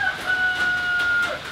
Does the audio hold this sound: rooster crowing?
yes